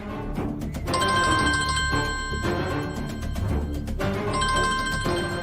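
A mobile phone rings indoors, its electronic ringtone repeating in steady bursts with a short gap between them, fairly loud and alone with no voices.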